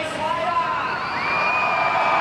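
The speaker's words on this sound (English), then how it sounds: "the biggest cheer so far has definitely been reserved for Kelly" Beach crowd at the Gold Coast Pro surf contest cheering and whooping for surfer Kelly Slater, a loud sustained roar with rising whistles and shouts while an announcer's voice runs over it.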